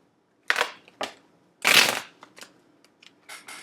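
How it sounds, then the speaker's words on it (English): Tarot cards shuffled and pulled from the deck, a few close riffles and slides with one longer, louder shuffle in the middle, then lighter card flicks. "I actually want to pull some more cards"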